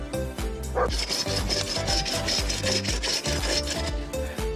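Chaga fungus being cut and scraped off a tree trunk in a forest, a close, repeated rasping and rubbing of a blade against the hard woody growth in an uneven rhythm, with no speech.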